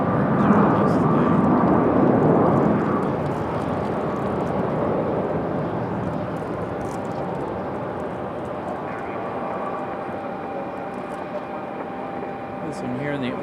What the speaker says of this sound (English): So we've got that United that just departed, headed to Houston.